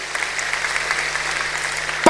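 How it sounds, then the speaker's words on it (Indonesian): A church congregation applauds during a sermon, a steady wash of mid-level clapping with a low hum underneath, ending in a sharp louder burst. "Berikan tepuk tangan yang meriah buat Tuhan."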